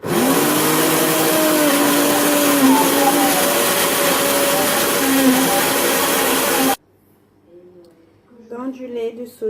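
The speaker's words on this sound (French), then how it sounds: "je rajoute du lait de soja pour mixer ma banane" A blender mixes banana with soy milk, running as a loud steady whirring drone for several seconds before cutting off abruptly, followed by quiet background and faint voice.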